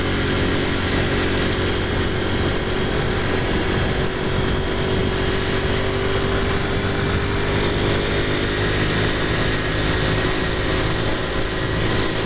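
A steady, loud engine drone runs throughout from a Honda Pop 110 motorcycle ridden at constant speed on a mountain road, with wind rush and no voices.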